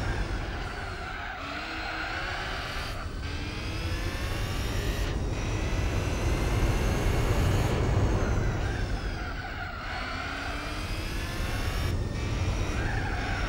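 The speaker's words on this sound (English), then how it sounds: "Audi R8 race car," Audi R8 race car in a racing video game, a loud continuous engine roar with repeated upshifts and pitch swells across about thirteen seconds, tires hissing underneath.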